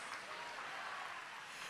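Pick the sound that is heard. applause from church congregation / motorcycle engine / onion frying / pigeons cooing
applause from church congregation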